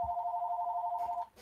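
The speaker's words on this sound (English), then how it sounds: "Probably ignoring the telephone that's now ringing." A telephone rings indoors with one steady electronic trill lasting just over a second, close and clear with no talk over it.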